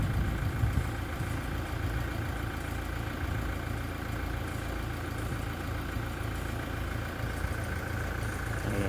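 Toyota Revo 2.8 4x4 diesel engine idling steadily, running to help a submersible DC 12V pump draw water from a canal into tanks; a continuous low rumble with no talk.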